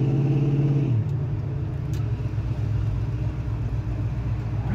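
A 1974 Ford Gran Torino V8 with an aftermarket exhaust settling to idle after a brief rev, a steady low rumble continuing close and even throughout.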